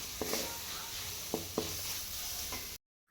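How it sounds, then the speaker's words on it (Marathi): Grated coconut is roasted in a pan for gravy, with a soft dry sizzle and a few sharp spoon taps against the pan before it cuts off abruptly. "छान असं ग्रेव्हीसाठी भाजून घेते"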